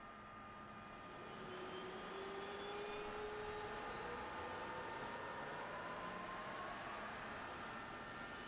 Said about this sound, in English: Let's go to engine two. Let's fire up two.